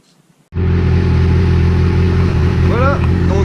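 Yamaha R6 sport motorcycle engine starting up and idling steadily after an oil change, a loud, close, continuous rumble with a few faint higher chirps over it.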